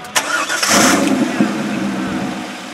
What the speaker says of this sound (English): I'm going to turn this car on. Take a listen to it.